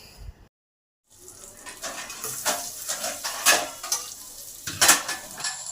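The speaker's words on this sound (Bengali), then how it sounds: "পেঁয়াজগুলো ভাজা হওয়ার জন্য দিয়ে দিলাম।" Onions frying in a pan start after a brief silence and settle into a close sizzle, punctuated by clattering utensil scrapes and stirring knocks against the pan.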